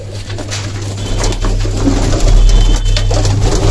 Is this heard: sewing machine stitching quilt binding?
no